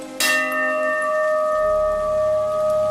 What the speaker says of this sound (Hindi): हाँ, ये किसी मंदिर की घंटी की आवाज़ है।